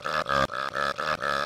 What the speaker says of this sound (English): I can literally just spam the burp button.